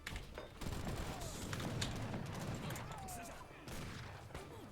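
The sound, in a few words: gunfire volley in video game Age of Empires III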